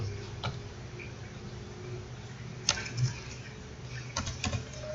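Ctrl key shortcuts pressed on a computer keyboard, a few faint scattered key clicks over a quiet low hum, close and sparse with no talk.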